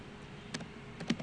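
Close, light keystrokes on a computer keyboard while typing React JavaScript code: a few separate taps, one short pair near the middle and a quick cluster of clicks toward the end, over faint room hum.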